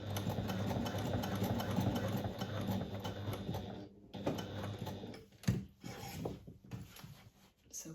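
A sewing machine runs steadily up close while stitching a diagonal line on a slouchy garment, its motor hum continuous, then broken by short pauses and handling knocks near the end.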